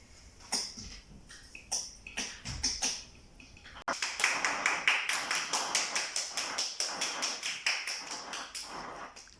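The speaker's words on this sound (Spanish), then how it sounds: "Un aplauso, por favor." A studio audience at the close of a television program claps: a few scattered claps at first, then a sudden steady, rhythmic burst of even claps at moderate volume.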